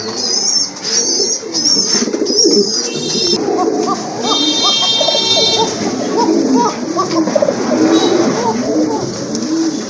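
Arabian pigeons coo repeatedly up close, soft throaty calls overlapping, with occasional chirps and faint voices in the background.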